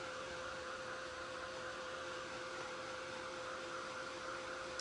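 Hair dryer blowing steadily on napkin art glued to a wooden craft piece, a constant loud airy whoosh with a steady motor hum throughout, no speech.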